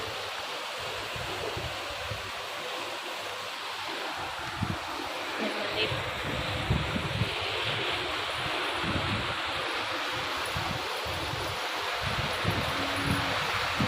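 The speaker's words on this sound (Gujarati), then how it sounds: "પાણીનો ઝરણો જાય છે" A small stream at a Khodiyar temple rushes steadily in a continuous broadband wash, with a voice speaking briefly over it.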